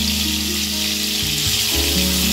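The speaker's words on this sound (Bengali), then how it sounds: "কড়াইয়ে তেল গরম হয়ে গেছে, এবার চিকেনগুলো মশলাগুলো ছাড়িয়ে একে একে ভেজে নেব।" Spice-coated chicken pieces fry in hot white oil in a kadai, making a loud, continuous, close sizzle that stays even throughout.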